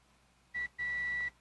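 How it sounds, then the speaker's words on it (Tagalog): Multimeter continuity buzzer testing parts on a Sapphire Nitro+ Radeon RX 580 graphics card, a short tone followed by a longer steady beep, clean and close against a faint background. "buzzer sound natin."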